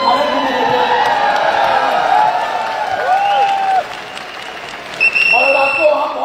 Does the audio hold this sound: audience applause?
yes